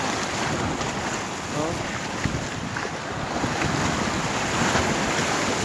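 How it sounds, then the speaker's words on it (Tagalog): Big waves at sea in strong wind make a loud, continuous roar of surf and gusting wind noise across the microphone, steady throughout with no clear voices. "Ang lalaki kasi ng alon eh."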